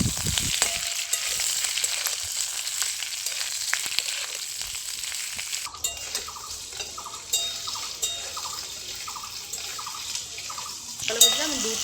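Half a spoon of ginger paste frying in a pan, with a steady sizzle and stirring scrapes that later turn into a rhythmic series of short strokes, close and moderately loud.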